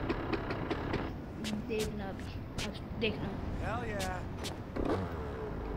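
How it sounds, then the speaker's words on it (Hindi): A low engine rumble runs throughout, like a scooter starting and idling in a video game, Gangster Vegas, quiet and steady, while a person talks over it. "आपको स्कूटी की स्टार्टिंग साउंड सुनाते हैं"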